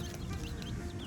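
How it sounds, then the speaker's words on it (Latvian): Chickens cluck close by in a brief, continuous run of soft, low-pitched clucking, with no voices over it. "Vistiņa."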